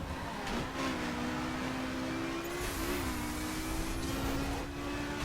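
A BMW M4 engine in the racing game The Crew pulls hard through the lower gears, one steady rising drone that holds loud and continuous for several seconds with a brief dip before climbing again.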